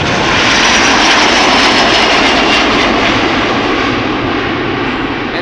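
Delta Airlines jet departing Amsterdam Schiphol Airport for New York JFK, a very loud, close, steady engine roar with a bright rushing hiss that holds at full strength, easing only slightly toward the end.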